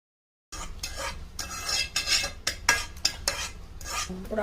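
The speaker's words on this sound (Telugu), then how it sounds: "ఇదంతా మంచిగా కింది దాకా కలపాలి." A spoon stirs a thick Telangana mango pickle (avakaya) in a metal vessel, giving repeated scraping and clinking strokes against the sides and bottom, close and clear, with no voices.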